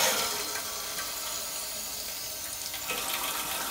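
Water rushes steadily into a toilet tank after a quarter-turn supply valve is opened, a close, continuous hissing gush with slight surges and no talking.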